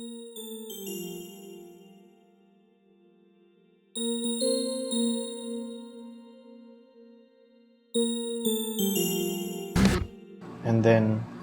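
A bell preset in Logic plays three sustained, ringing chime chords, each entering about four seconds apart with bright metallic overtones, followed by a brief burst of a voice at the end.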